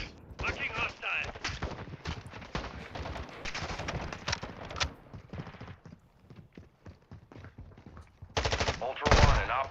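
Rapid bursts of automatic gunfire in a first-person shooter video game, loud repeated volleys with brief pauses and short heavier reports near the end.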